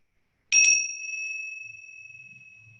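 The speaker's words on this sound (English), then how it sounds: "Perhaps you could even turn your attention to the sound of the bell." A single bright bell strike rings out clearly in a quiet room, its pure tone slowly fading over a couple of seconds.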